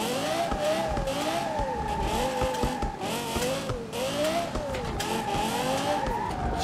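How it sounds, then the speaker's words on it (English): A car drifting in BeamNG.drive, its engine droning steadily while tires squeal in long, wavering screeches that rise and fall repeatedly, loud and continuous. "This car is hard to drift"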